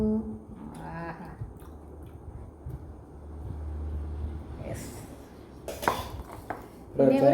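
A spoon clinks against dishes at an outdoor alfaham chicken meal at sunset, a few light metallic taps and clatters near the end over low rumbling background noise, with voices at the start and the end.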